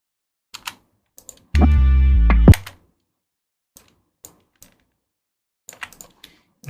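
Keys tapped on a computer keyboard while editing in Premiere Pro: sparse, crisp single clicks with gaps, broken by a loud steady buzzing tone lasting about a second.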